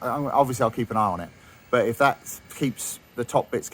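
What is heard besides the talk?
No everyday noises stand out.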